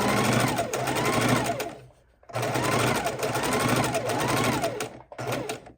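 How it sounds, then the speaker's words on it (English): A sewing machine stitches log cabin quilt block scraps in dark and gray fabrics, running in two long steady bursts with a brief pause between them, close and loud, its rapid whirring rhythm continuous throughout. "we're taking our next blackish color and we're sewing"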